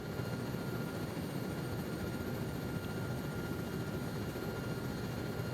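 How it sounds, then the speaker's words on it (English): Helicopter rotor and engine noise in a Vietnam war PvP video game, a steady continuous drone heard from a distance, fairly faint and unbroken, without talk. "Wow, I can hear the helicopter from all the way over here."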